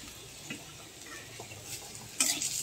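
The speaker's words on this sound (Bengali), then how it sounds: "দেখো পেঁয়াজটা ভাজা ভাজা হচ্ছে" Onion fries quietly in a pot for vegetable khichuri, a soft sizzle broken by light stirring scrapes and a louder clatter of the spoon near the end.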